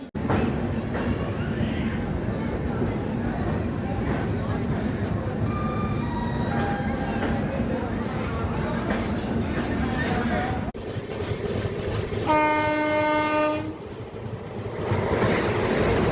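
A train rumbling past at night, a steady loud roar of wheels and wind heard from inside a moving coach as the Chandigarh Ajmer Vande Bharat Express crosses, with brief horn-like tones partway through.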